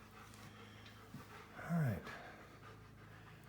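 A dog pants briefly, a short burst of quick breathy huffs close by over steady air-conditioner hum, with a person speaking briefly.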